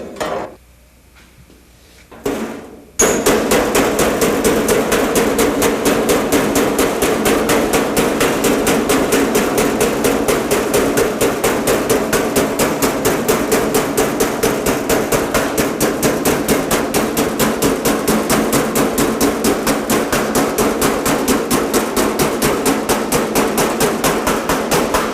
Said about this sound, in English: After I'm done hammer welding the 2 panels together